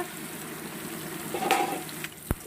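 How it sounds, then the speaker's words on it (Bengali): Ridge gourd frying in a pan, a steady low sizzle with a few stirring scrapes and a sharp knock of the utensil near the end. "ঝিঙেটা এটার সঙ্গেও বেশ দু মিনিট আমি কষিয়ে নেবো"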